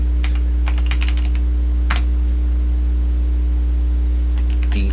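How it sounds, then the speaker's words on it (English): Typing on a computer keyboard while filling in a Google spreadsheet budget, a few scattered clusters of light keystrokes with pauses between, close but fairly soft over a steady low electrical hum. "Next one, I'm going to type received."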